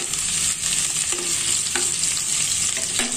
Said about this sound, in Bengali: রসুন আর পেঁয়াজটাকে সুন্দর করে ভেজে নিতে হবে।